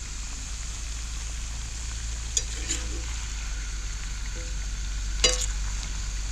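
Food frying in canola oil in a cast iron pan on a truck tailgate outdoors, a steady faint sizzle with low background hum and a couple of brief clinks of utensils.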